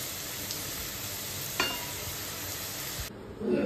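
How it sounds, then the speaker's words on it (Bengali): Potato and carrot pieces frying in oil with nigella seeds and green chili, a soft steady sizzle with a brief stir or clink partway through, fairly quiet and without speech. "ভাজতে দিয়ে দিয়েছি, একটু কালো জিরে ফোড়ন দিয়েছি আর একটু লঙ্কা দিয়েছি"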